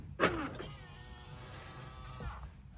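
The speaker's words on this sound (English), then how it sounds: "So we're going to lock the car," Jaguar F-Type being locked: a sharp near mechanical thunk and whir from the car, followed by quieter settling sounds, no talking.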